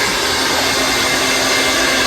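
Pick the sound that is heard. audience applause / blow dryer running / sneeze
blow dryer running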